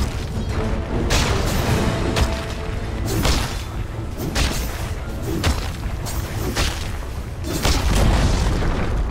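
Explosions and attack blasts as a tower comes under fire in the Dota 2 video game, with loud, dense booms and thuds repeating every second or so over constant battle noise.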